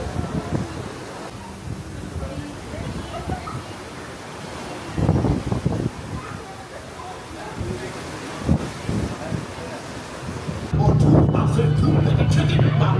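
Ocean waves and wind at sea aboard a cruise ship, a steady broadband wash with gusty rumble throughout, louder toward the end, with people talking faintly in the background.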